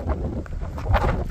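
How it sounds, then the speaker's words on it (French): Wind blowing across a mountain summit above the border towns of Cerbère and Portbou, a steady low broadband rush buffeting the microphone with a stronger gust near the end. "il y a du vent"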